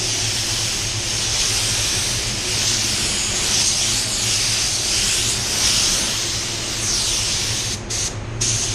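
A spray gun running at 25 psi lays a medium wet coat of paint on a Tesla car, giving a loud, continuous hiss close by that breaks off briefly near the end.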